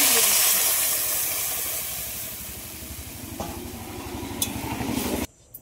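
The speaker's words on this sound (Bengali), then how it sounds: "তরকারির ঝোলটা ফুটে উঠেছে" Fish curry broth with potatoes coming to a boil in a pot; a steady bubbling hiss that fades gradually before cutting off abruptly, with faint clinks near the end.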